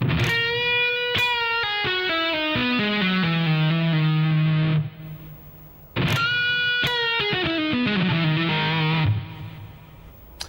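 A distorted electric guitar plays a slow descending lick, notes stepping down and sustaining, then the phrase repeats a second time.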